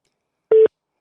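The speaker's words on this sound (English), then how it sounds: "please leave your name and number after the beep" A single clean voicemail beep on a phone call, a steady pure tone lasting a fraction of a second, loud and alone against silence.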